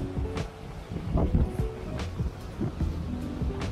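Wind gusting across Tomales Bay during a fishing outing, a steady low rumbling buffet with uneven gusts throughout, fairly loud and close.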